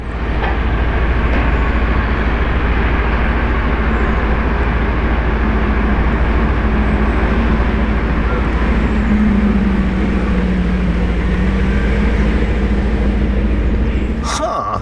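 Lamborghini V10 sports car, a Performante, roaring past loudly with a dense, sustained engine drone and rising-falling tone over busy traffic.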